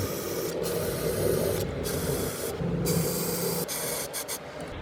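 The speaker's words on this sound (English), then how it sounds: "So we'll spray some WD-40 on all the bolts" WD-40 sprayed in hissing bursts onto the wheel bolts of a Mazda MX-5, several close spray pulses separated by short pauses, with no talk.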